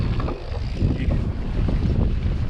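Strong wind blowing steadily outdoors on a Sedona mountain bike trail, a continuous loud rushing roar buffeting the microphone throughout.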